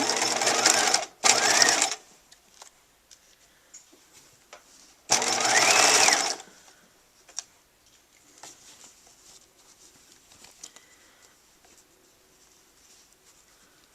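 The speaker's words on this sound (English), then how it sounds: "Got a lot of thick layers here, so you might need to help it through your machine." A sewing machine stitches through thick layers of fabric in short bursts of loud rapid whirring, separated by pauses with faint clicks and handling noises, close up and without talking.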